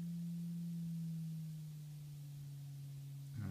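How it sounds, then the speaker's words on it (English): A synthesizer oscillator holds a steady low sine wave tone, a clean continuous hum with a faint higher partial, fading slightly before a brief noisy swell at the end. "so now I found the fundamental, so we have a very strong sine wave"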